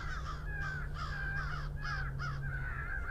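Several crows caw repeatedly in a steady series of about seven harsh calls during a crow hunt, loud and fairly close over a constant low hum.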